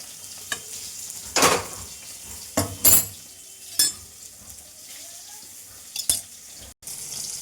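Fried pumpkin greens are stirred into a batter, with a few short scrapes and clatters of a spoon against the bowl spaced through quiet moments. The sounds are close, with no one talking.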